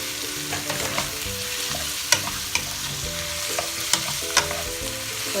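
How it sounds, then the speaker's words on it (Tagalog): Pork meat sautés in a pan with a steady close sizzle, overlaid by occasional sharp scrapes and clinks of a utensil stirring. "We're gonna saute this also together with these two ingredients."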